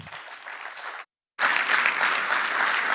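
Sustained audience applause greeting a speaker, steady dense clapping that cuts out for a moment, then returns louder and fuller, with no talking.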